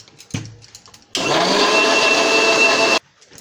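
Blender pureeing tomatoes in the kitchen for a raw jackfruit stir fry: a short knock, then the motor roars loud and steady for about two seconds before cutting off abruptly.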